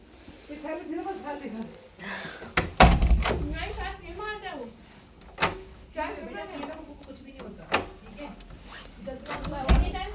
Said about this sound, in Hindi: अब मैं अपने रूम का दरवाज़ा बंद कर रही हूँ